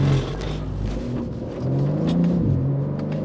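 A BMW M3 Competition G80 revs hard while spinning sideways in four-wheel-drive sport mode, its engine roaring with a rising and falling pitch over a deep tire-and-road rumble, loud and close, with no talking.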